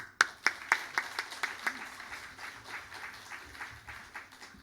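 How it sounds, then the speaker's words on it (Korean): Applause from a church congregation welcoming a preacher to the pulpit, starting with a few sharp individual claps that build into scattered, moderate clapping, heard fairly quietly with no talk over it. "또 환영과 축하의 박수 하겠습니다."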